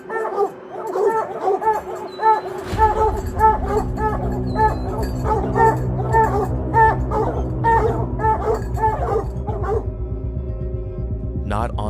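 Repeated barks from dogs ring out in a steady, rhythmic series, fairly close, over a low droning background with a voice speaking in places.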